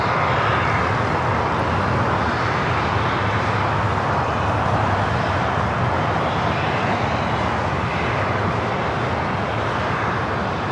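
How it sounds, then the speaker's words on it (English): An Airbus A380 airliner at LAX near runway 24 right, a loud, continuous broadband jet roar that holds steady throughout with no voices. "Heading to the north, the A380 Super. Short funnel for runway 24 right."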